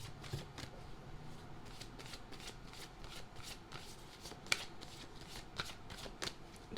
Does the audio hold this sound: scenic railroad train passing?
no